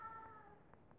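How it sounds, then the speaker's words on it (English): A house cat meows once, short and faint, in the background of a quiet room, with no talking. "If you hear meowing in the background, that's just my cat."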